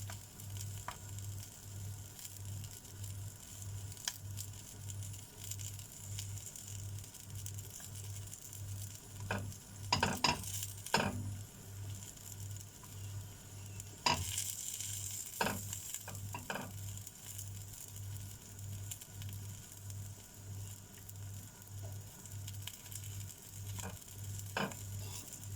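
A breakfast quesadilla cooks on its second side in a pan, giving a quiet, steady sizzle over a low hum, with a few scattered clicks and scrapes and a louder burst partway through.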